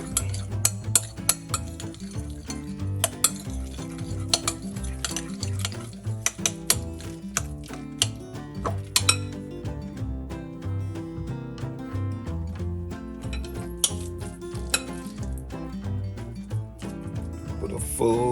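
Egg salad gets mixed in a bowl with black pepper and salt, making a steady run of scraping stirs and light clinks against the bowl over a continuous musical background.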